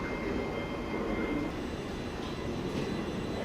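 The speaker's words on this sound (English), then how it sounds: "This train has 8 carriages." A train at Clapham Junction station rumbles past in a steady, moderately distant roar that holds evenly throughout, with no voices.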